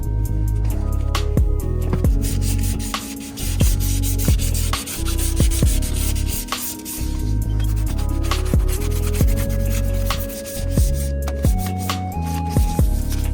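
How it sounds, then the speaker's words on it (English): Hand sanding the door jambs of a junkyard-parts Honda Civic with a sanding block, a steady continuous rubbing scrape with rhythmic back-and-forth strokes, close and fairly loud, with background music tones running underneath. "just go ahead and get your sanding block or just sand it by hand"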